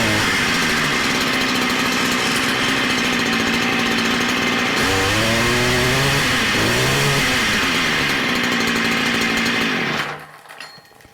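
Stihl chainsaw engine running loud and close, revving up and down in the middle, then cutting off abruptly near the end, with no voices.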